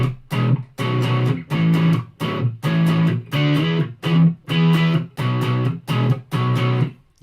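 An electric guitar on its neck pickup plays clean, with no effects: about ten loud strummed chords in a steady, driving rhythm, each ringing briefly before the next, with no talk.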